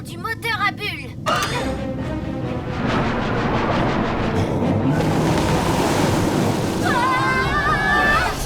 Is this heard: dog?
no